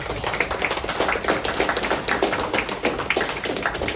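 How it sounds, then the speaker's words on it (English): A round of applause at a city council meeting in Litchfield, Illinois: steady, dense clapping from a roomful of people, even and sustained for the whole stretch with no voices over it. "I want to give you a round of applause for doing it."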